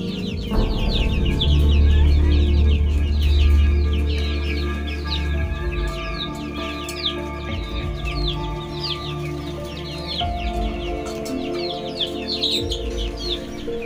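Chickens cluck and chatter continuously in a backyard chicken farm, a dense flock heard close and fairly loud over a low steady hum, with no voices.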